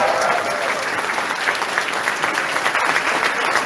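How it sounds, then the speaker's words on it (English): A crowd at an Andrew Yang campaign rally in Chicago claps loudly and steadily throughout, a thick continuous roar of applause filling the hall with no pause. "Give yourselves a round of applause for being early adopters."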